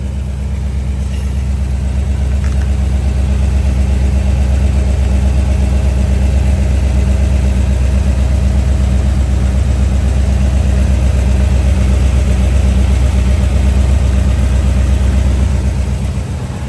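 Carbureted engine idling smoothly, a loud, steady low rumble that holds an even rhythm throughout with no voices.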